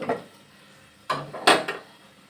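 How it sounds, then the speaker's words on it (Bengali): A few sharp metallic clanks, then a lid clatters down onto a pot of water heating on a gas stove, ringing briefly. "এটাকে একটু ঢাকনা দিয়ে ঢেকে দেবো"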